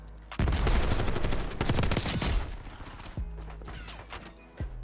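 Rapid automatic fire from an XMG machine gun in Black Ops 6, a loud, fast string of close shots followed by a few scattered single cracks and impacts.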